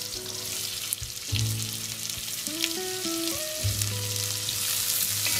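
Onions and ginger fry in a pan with a steady, even sizzle and occasional stirring scrapes, close and continuous throughout.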